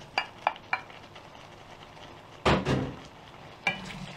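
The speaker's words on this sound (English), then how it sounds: "So just give that a good mix through." Spaghetti tossed through carbonara sauce in a pan gives faint clinks early on, then a louder burst of scraping and stirring midway, and a final short clatter. No one speaks.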